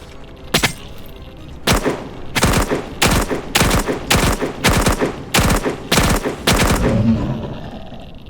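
Assault rifle fire in the game Dysterra rings out in about nine sharp, loud bursts spaced roughly evenly over several seconds, each a quick rattling volley with no voices.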